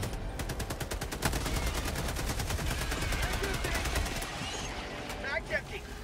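Rapid machine-gun fire from a Helldivers 2 battle rattles steadily for several seconds, loud and dense, with game sounds and a voice mixed in beneath the bursts.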